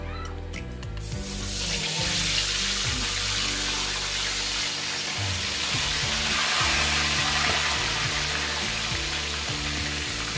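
Steady, loud sizzling of fish frying in hot oil, a continuous crackling hiss with occasional clinks of a utensil near the start.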